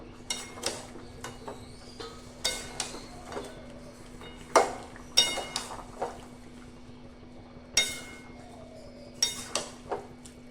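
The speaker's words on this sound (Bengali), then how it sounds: "এবার এখানে আমি ভেজে রাখা বড়িগুলো মিশিয়ে দেবো এর সাথে, আর আগে থেকে ভেজে রাখা উচ্ছেগুলো।" A spoon scrapes and knocks against a pan while fried bori and bitter gourd are mixed in for shukto, giving irregular sharp metallic clinks and taps spread over several seconds in a quiet kitchen.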